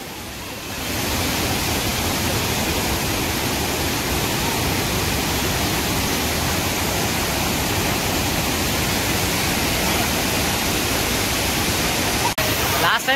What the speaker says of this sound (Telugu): చూడండి ఎంత వాటర్ పోతుందో